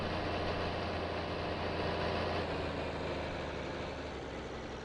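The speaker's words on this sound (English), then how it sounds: "both of these tractors are diesels" Diesel tractor engine idling in the Farming Simulator 22 video game, a steady low rumble that holds at an even, loud level throughout with no voices over it.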